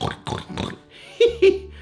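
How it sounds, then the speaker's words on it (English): A pig oinks and snorts in a few rough, rhythmic grunts, then a pair of short squeals with a hum beneath, loud and close, on a toddler farm-animal sound lesson. "A pig sounds like"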